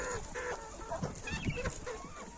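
Steady background clucking and chattering from a flock of chickens in a farmyard, continuous and moderately close, with no talking.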